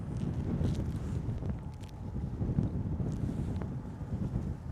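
Wind buffets the microphone in steady low rumbling gusts outdoors on a chilly early spring day, with faint scattered knocks and no talking.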